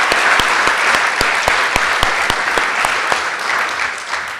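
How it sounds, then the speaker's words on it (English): A banquet audience applauds award recipients at a Chamber of Commerce awards dinner, dense steady clapping filling the room for several seconds, with sharper individual claps standing out near the front. "give them one more round of applause"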